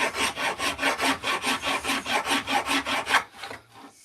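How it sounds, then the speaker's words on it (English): Wood being sanded by hand with heavy-duty sandpaper, a close, rhythmic series of about fourteen rasping back-and-forth strokes at an even pace, stopping near the end. "heavy duty sandpaper that is, isn't it?"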